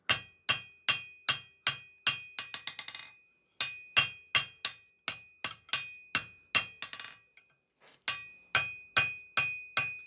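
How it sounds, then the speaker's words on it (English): A light hammer strikes hot metal on an anvil while forging box jaw tongs, in quick, ringing blows, with bursts of rapid lighter taps and short pauses between. "So I want to inch it in just slowly with a lighter hammer."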